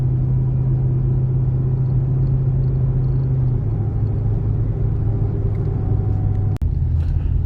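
A Cadillac CTS-V running on E85 with upgraded injectors cruises steadily, its low engine drone and road rumble continuous and close throughout, with one brief sharp knock near the end.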